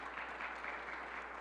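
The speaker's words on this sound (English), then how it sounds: "So let's give her a round of applause for what she does statewide," A brief, faint round of applause in a hall during a governor's education budget event, soft steady clapping from a distant audience.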